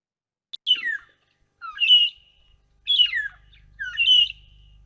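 Buffalo weavers and a shrike calling in the wild, four bursts of bright chirping and whistled notes spaced about a second apart, fairly close and clear, with a faint low rumble underneath toward the end.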